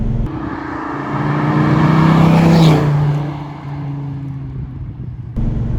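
Dodge Viper V10 sports car on adjustable race suspension and Michelin Pilot Sport 4S tires, driven hard through corners: a loud, close engine drone swells and revs up, then eases off, steady throughout with no talk.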